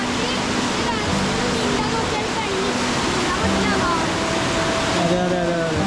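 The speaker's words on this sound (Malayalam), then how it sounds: "എന്തോ ഒഴുക്കാണ് ഈ വെള്ളത്തിന്" Rushing river water roars through the Aare Gorge in Switzerland, a loud, constant torrent filling the whole clip, with faint tonal whistles or voices underneath.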